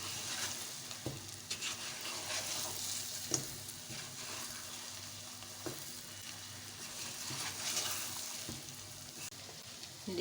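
Chicken fries with ground coriander, red chili and black pepper in a pan, a soft, steady sizzle with occasional stirring scrapes and taps, fairly quiet and close, with no talking.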